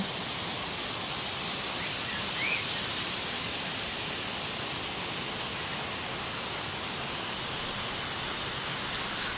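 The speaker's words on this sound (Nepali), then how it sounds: "झरना भनौँ कि यसलाई खोल्सा भनौँ त्यस्तै टाइपको हो।" A steady, unbroken rush of flowing water from a small hillside stream near Bhujung village, Nepal, heard up close, constant and even throughout.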